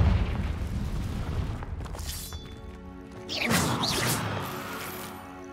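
A Confringo fire spell explodes in Hogwarts Legacy, a booming, crashing blast in the middle of a dense, noisy game battle soundscape, with rumble before it and a bright burst after.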